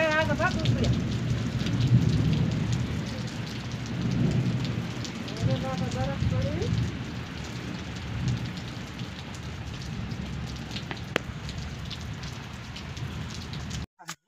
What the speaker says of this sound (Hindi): आज हमारे गांव में बहुत बारिश आई है